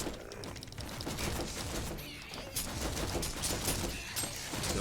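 Automated defensive turrets fire in dense, overlapping bursts during a wave battle in Warhammer 40,000: Inquisitor - Martyr, a steady loud fusillade that swells and dips with scattered clatter.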